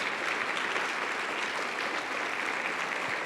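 A church congregation at a Sunday sermon breaks into loud, sustained applause, a dense, even wash of many hands clapping that holds steady throughout without letting up.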